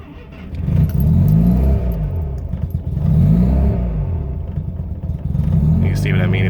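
A 1985 GSL-SE car engine cranks and catches, then settles into a rough, uneven idle that struggles to hold steady. The low rumble stays loud and up close, surging and dipping in pitch throughout.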